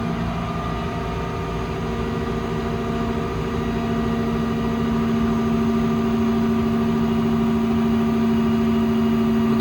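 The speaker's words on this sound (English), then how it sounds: "Commands the compressor on." A truck-mounted air compressor runs on a 2016 Ram 5500 Cummins diesel service truck with a Summit 6620 body, a steady droning hum with strong tonal harmonics held level throughout, close and continuous.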